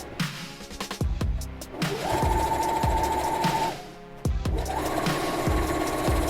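A sewing machine top stitching a fabric face mask runs in two steady, loud whirring passes with a brief pause between them, with soft clicks and handling at the start.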